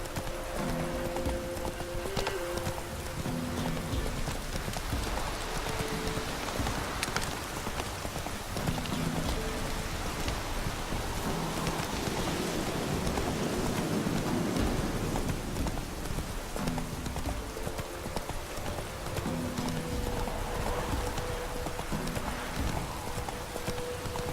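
Hooves of the horse Roach in The Witcher 3, a steady clip-clop of trotting over ground amid rain-like ambient noise and a low hum, moderately loud and continuous, with no talk.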